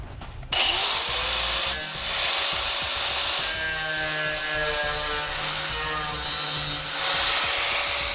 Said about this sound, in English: We'll use a grinder for this.